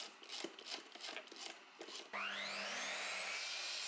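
Scraping, rubbing wood noise for two seconds, then a steady loud drill press motor whine starts and holds with a rising tonal sweep as it drills holes in a wooden board.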